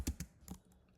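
A computer keyboard gives three or four quick, soft keystroke clicks in a quiet room during Python and Django coding, the taps fading toward the end.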